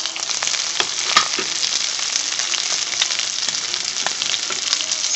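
Sliced onions dropped into hot oil for Kerala kothu chapati, a dense, even crackling sizzle with a few sharp pops, close and loud, with no voices.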